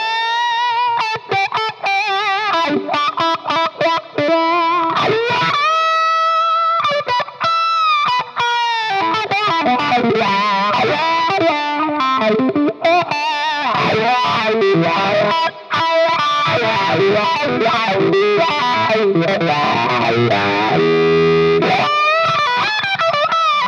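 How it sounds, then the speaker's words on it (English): Electric guitar through a Dunlop Cry Baby Custom Badass dual-inductor wah pedal with the tone switch set all the way back for a dark voicing, playing continuous distorted riffs and sweeping wah tones that stay loud and steady throughout. "And then all the way back so you can hear how dark it gets."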